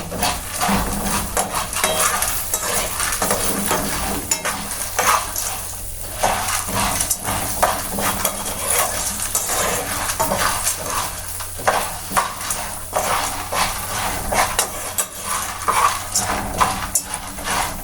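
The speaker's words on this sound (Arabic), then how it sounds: "هنقلب بقى بحيث ان المكرونه تاخد لون واحد" Macaroni with ginger is stirred as it fries in a pan, making continuous close scraping and sizzling with the spoon rasping against the metal.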